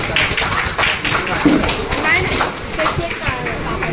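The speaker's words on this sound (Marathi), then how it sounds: "तर त्याच्यासाठी जोरदार टाळ्या वाजवा" Loud clapping from a family gathering at a baby shower celebration, greeting a father about to recite a poem, with voices mixed into the applause.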